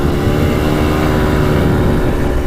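A quad ATV engine with a new top-end piston and cylinder kit revving steadily at about a third throttle, a loud, continuous buzzing drone close by, with no talk.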